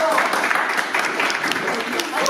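An audience claps continuously for a child at a Children's Day event, with steady close applause and voices calling out over it.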